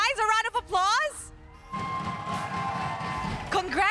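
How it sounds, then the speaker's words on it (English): An excited voice shouts, then a crowd at an esports match cheers and applauds for about two seconds before the voice returns. "a round of applause"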